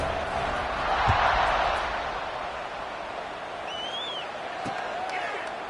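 Football stadium crowd at a Memphis game cheering around kickoff: a broad, steady roar that swells near the start, with whistles and voices rising above the crowd noise.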